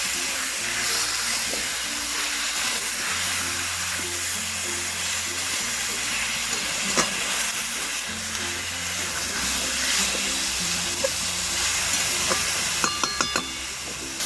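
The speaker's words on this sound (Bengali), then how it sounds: "এখন দিয়ে দেবো আগে থেকে ম্যারিনেট করে রাখা চিকেনগুলো।" Marinated chicken pieces stirred in a pan for a home-style chicken stew, with a steady sizzle and hiss throughout, soft clinks of a utensil against the pot, and a few sharper clatters near the end, no voices.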